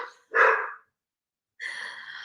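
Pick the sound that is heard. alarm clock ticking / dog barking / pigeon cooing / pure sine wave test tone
dog barking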